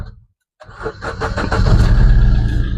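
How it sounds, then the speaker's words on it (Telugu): A Maruti Suzuki Ritz VDI diesel car engine cranks after a brief silence, catches with a few rhythmic pulses and settles into a loud, steady close-up idle. "ఇంజిన్ స్టార్ట్ చేశాను ఫ్రెండ్స్"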